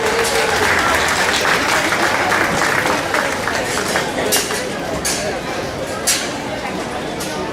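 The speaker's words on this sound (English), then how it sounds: "Let's give them a good round of applause." Steady crowd applause fills the barn at a county fair junior market hog show, dense and continuous clapping close by with a few louder individual claps standing out as it slowly eases.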